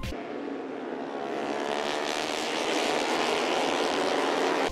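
A Moto3 racing motorcycle with a 250cc single-cylinder engine screams past during a race. The loud, high-revving roar fills the whole stretch and swells toward the end, with no talking.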